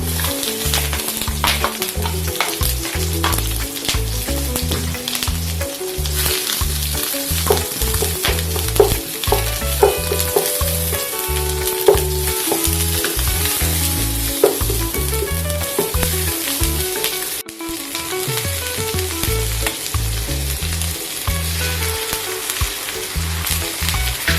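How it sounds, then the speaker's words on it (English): Onions (bawang besar) stir-fry in a hot pan for a home-cooked corned beef and eggplant dish, a steady loud sizzle broken by rhythmic scraping and clanking of the spatula, with no talking. "Stir fry the bawang besar."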